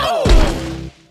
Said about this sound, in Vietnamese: Đó là tiếng sấm à?